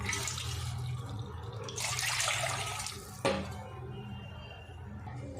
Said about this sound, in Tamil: அதே கடையில் மூணு கப் அளவுக்கு தண்ணி சேர்த்துக்கலாம்